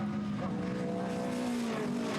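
TVR Tuscan race cars at Thruxton braking for the chicane, engines droning loud and steady with shifting harmonic tones as several cars run close together.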